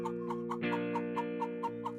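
A weak, frightened hen clucks in a steady run of short, evenly spaced calls over a sustained tonal background.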